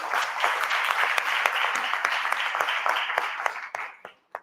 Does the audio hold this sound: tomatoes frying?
no